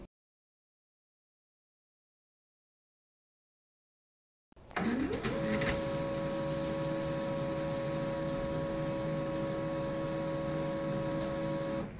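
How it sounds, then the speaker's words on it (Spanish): A Pantum P2509W laser printer switches on after silence and warms up with a steady mechanical hum and whir, joined by a brief rising motor sweep and faint clicks. It runs close and alone with no talking. "encendemos la impresora con el switch y aquí ya se encendieron los dos LEDs de color verde"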